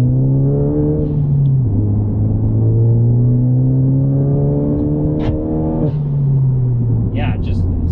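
A 10th-gen Honda Civic with an aftermarket cat-back exhaust idles and rises in a smooth, deep rev, then settles back, loud and close, with a bit of talk over it.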